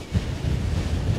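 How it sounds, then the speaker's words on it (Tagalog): Strong wind buffets the microphone beside rough sea waves while fishing from a boat, a close, loud, continuous rushing rumble with no talk. "Lakas ng hangin, saka lakas ng alon."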